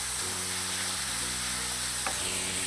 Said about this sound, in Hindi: गाजर को और शिमला मिर्च को आपने 2 से 3 मिनट जरूर फ्राई करना